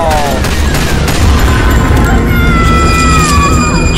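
Gunfire in the co-op zombie shooter Left 4 Dead 2, Hard Rain campaign on Realism: loud, continuous bursts and booming shots fill the whole stretch, with players' voices mixed underneath.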